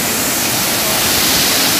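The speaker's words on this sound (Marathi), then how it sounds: "हा आहे मुख्य धबधबा" A waterfall in the Konkan region roars as a dense, loud, steady wash of rushing water, close and uninterrupted, with no voices.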